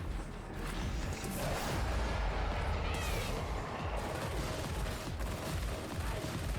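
Dense bursts of rapid gunfire and explosive impacts from a video game trailer run loud and continuous, with mechanical clatter mixed in and no voices.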